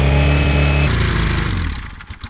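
A vintage Honda or Suzuki motorcycle engine, loud and close, holds a high rev that steps down in pitch and fades to a rough sputter as it slows.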